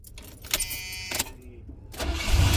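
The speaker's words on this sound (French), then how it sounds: "Oh mon dieu, ça a démarré si vite." A V8 car engine cranks and catches, revving up loudly near the end, with clicks and brief mechanical noises before it starts.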